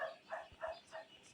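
Dog barking in a survival video game, a short run of three or four evenly spaced barks of moderate loudness, with no talking.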